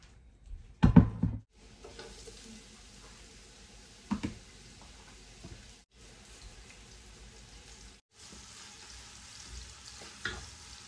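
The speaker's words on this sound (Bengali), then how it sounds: "হাঁড়িটা গরম হয়ে গেছে, আমি এখন একটু তেল দিয়ে দিচ্ছি।" Oil poured into a hot pot gives a soft, steady sizzle and faint crackle, with a louder clatter near the start and occasional light knocks.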